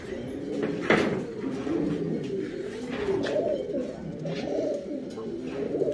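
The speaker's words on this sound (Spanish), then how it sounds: "Son palomos bravíos." Wild pigeons coo continuously nearby, low rolling calls repeating in waves, with a few soft knocks and clicks in the background.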